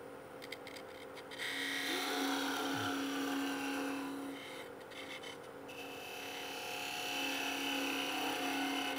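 A wood lathe turns a goblet at about 2,000 RPM, giving a steady hum with rasping, scraping bursts as the tool cuts the wood, close and fairly loud.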